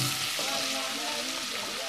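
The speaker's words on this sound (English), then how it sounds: "Then I fry my onion first." Onion sizzles steadily in a hot pan, a close and constant crackling hiss with a faint stirring undertone throughout.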